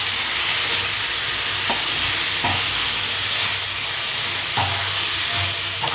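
Cut drumsticks tempered and stir-fried for a poriyal in a hot pan, a continuous sizzle with occasional scraping stirs and clinks against the pan.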